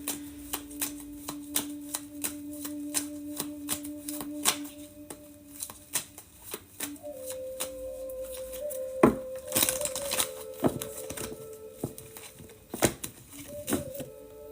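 A deck of tarot cards shuffled by hand indoors, with a run of quick papery riffles and snaps repeating close up, some louder flicks standing out, alone without talk.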